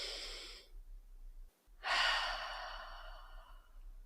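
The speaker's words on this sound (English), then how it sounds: "take another deep breath" A slow, deep breath is drawn in and then released as a long, soft, airy exhale, close and quiet in a calm, still setting.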